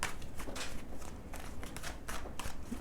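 A deck of tarot cards is shuffled by hand in several quick riffling bursts with short gaps between them, close and fairly soft, with no voices.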